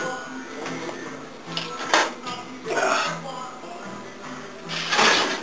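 A foil-covered baking dish and a baking stone are placed into a 400-degree oven, giving a few scattered clinks and knocks of metal and stone, spaced apart and moderately close.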